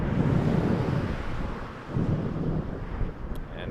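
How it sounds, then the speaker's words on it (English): Steady, loud wind buffets an outdoor microphone at Toronto Pearson Airport, a broad continuous roar with gusts rising and falling and no voices. "The wind is picking up."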